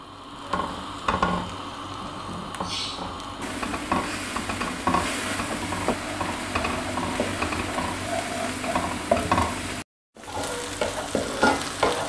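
Chopped onions fry in oil over medium heat, a steady close sizzle running throughout with occasional stirring scrapes and clicks, broken by one brief gap near the end.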